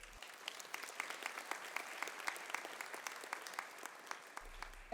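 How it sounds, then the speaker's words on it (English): Applause from an audience at a high school honor awards assembly, a steady patter of many hands clapping at moderate distance for several seconds with no talking. "So give yourselves a round of applause."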